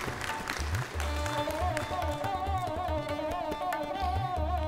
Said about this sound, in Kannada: ದೊಡ್ಡ ಚಪ್ಪಾಳೆಯನ್ನು ಕೊಡಬೇಕಂತ ಕೇಳ್ಕೊತೀನಿ